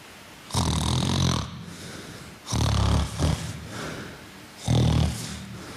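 A sleeping person snores loudly in three long rasping bursts with a short snort between, each inhaled rattle coming close and heavy with quieter breathing in the gaps.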